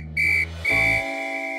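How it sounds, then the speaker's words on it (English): A whistle in a children's cartoon, sounded in short, loud, shrill blasts signalling for help, a bright steady tone with low rumbling underneath and no voices. "Three whistle blasts means help."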